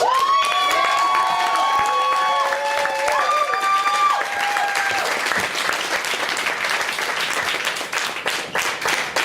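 A crowd claps and applauds loudly and steadily, with tonal synth music fading out over the first few seconds as the clapping continues.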